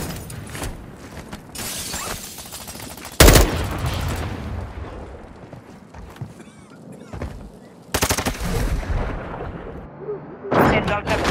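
Warzone 2.0 gunfire rattles in dense bursts and heavy booming blasts with shattering debris, loud and close, broken by quieter gaps with speech mixed in among the chaos.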